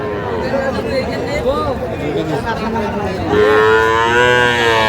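Several cattle, young bull calves and heifers, moo loudly and repeatedly at a livestock market, overlapping one another, amid a busy crowd of chattering voices.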